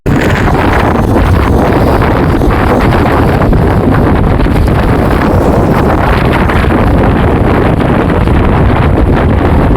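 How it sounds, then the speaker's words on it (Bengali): Strong wind roars steadily across a microphone near the sea at Somnath, strong enough to rock a parked car, a loud continuous rushing buffet with no pauses and no voices. "এত হাওয়া বইছে যে গাড়িতে বসে বসে আমরা হিলছি"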